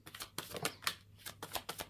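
Cards being shuffled close by, a few quick riffling bursts and soft flicks spaced over a couple of seconds, fairly quiet.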